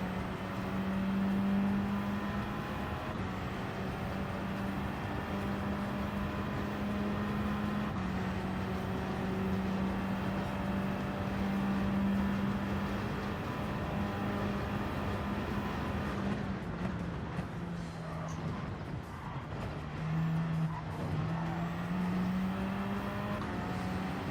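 Race cars in a racing video game, a continuous droning engine whine that rises and falls in pitch through gear changes, steady and loud throughout.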